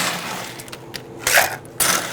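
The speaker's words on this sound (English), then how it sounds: "now we're going to add our ice" Ice cubes going into a cocktail shaker while a Whacked Limone Drop is mixed at an Italian restaurant bar: faint taps, then two loud clattering rattles of cubes dropping in.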